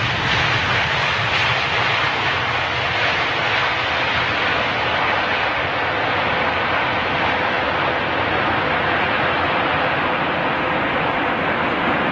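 A Hainan Airlines airliner at Heathrow gives a loud, continuous engine roar that holds steady throughout, broad and rushing like heavy wind noise.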